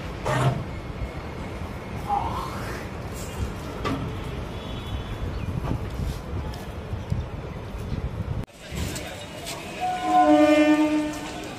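Kanchankanya Express passenger train on the Bandel–Naihati route running with steady wheel and track rumble, with a loud horn sounding near the end; faint voices in the background.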